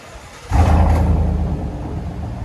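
Inside the cab of a lifted GMC Sierra with a 5.3L V8 and straight-pipe exhaust, a deep engine rumble swells abruptly into a loud rev, then holds a heavy droning idle.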